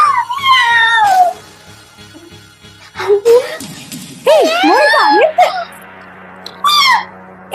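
A person imitates a cat, producing a string of exaggerated wavering meows and yowls in bursts of varying length, loud and close, with a low steady hum behind and brief gaps between calls.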